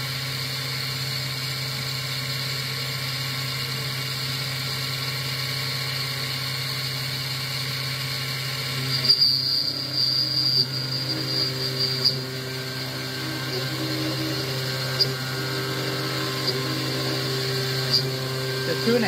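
Taig BT30 headstock driven by a 1200 W motor milling with adaptive clearing at 39 inches per minute, a steady motor hum throughout, with cutting chatter and squeals beginning partway through.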